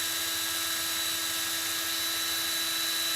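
Power drill spinning steadily to twist wire into a fuse Clapton coil for a Fat Rabbit RTA, a constant high whine with a steady hum, close and alone.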